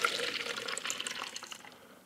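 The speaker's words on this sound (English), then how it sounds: "I'll pour this back in this jug so we can actually save this." Film developer is poured back into a jug in a steady close splashing trickle that fades slightly toward the end.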